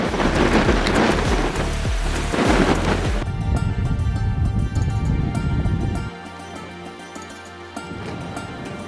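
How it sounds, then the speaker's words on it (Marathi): Strong wind roars across a hilltop cliff edge in Ambehatwij, Junnar, a loud continuous rush that buffets the microphone before easing to a steadier blustery hiss. "खूप वारा आहे इथे, अगदी कॅमेराही स्टेबल ठेवता येत नाही."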